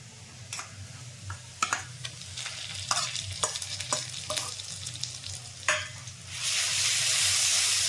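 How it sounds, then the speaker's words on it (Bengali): Ginger and garlic paste added to hot oil in a pan and stirred, starting with sharp metallic scrapes and taps, then settling into a loud, steady sizzle near the end; no speech. "আমার ভাজা ভাজা হয়ে গেছে এবার আমি যে আদা বাটা আর রসুন বাটা আছে এটা দিয়ে দেবো"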